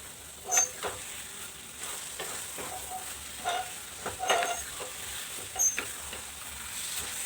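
Carrot halwa frying in ghee is stirred in a pan, giving a steady soft sizzle broken by scraping strokes at irregular intervals, with no voices.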